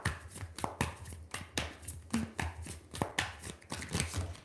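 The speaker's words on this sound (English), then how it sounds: "Oh, I'm going to keep shuffling." Tarot cards shuffled by hand at close range, a steady run of soft riffling taps and flicks with short pauses, quiet and alone with no talking.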